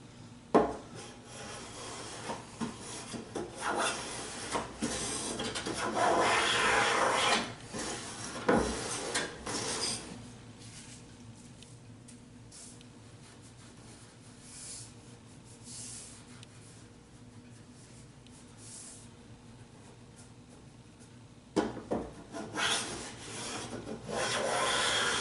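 Hand sanding of a wooden jewelry case produces steady rubbing and rasping strokes, loud and close for the first ten seconds. The scraping then drops to a quieter, sparser rub before a few sharper strokes return near the end. No voices are heard.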